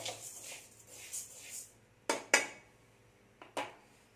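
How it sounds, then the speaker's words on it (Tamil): Rice powder is roasted and stirred in a pan for Thiruvathirai kali, with soft scraping at first and then a few sharp metallic knocks of the spoon against the pan, close and fairly quiet. "இப்படி விடாமல் கிளறுங்க."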